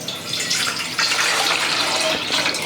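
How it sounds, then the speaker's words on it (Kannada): Water pours from a glass into a cooking pot in a loud, close, continuous gush that lasts a few seconds. "ಈಗ ಇದಕ್ಕೆ ಒಂದು 4 ಗ್ಲಾಸ ನೀರು ಹಾಕ್ಕೋತೀನಿ ರೀ."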